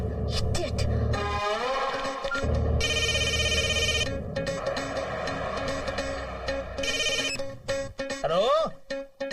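A cell phone ringtone rings repeatedly in bursts through a comedy film scene, loud and close, with voices talking and other background sounds around it.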